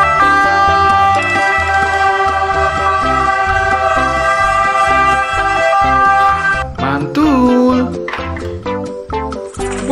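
A toy ambulance siren wails loud and close over steady music for about seven seconds, then cuts off into brief clattering and squeaky toy sounds.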